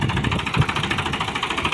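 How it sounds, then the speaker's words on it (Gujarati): A farm tractor idles close by with a steady, pulsing mechanical throb that repeats evenly, and no talk is heard. "આ આપણું ટ્રેક્ટર."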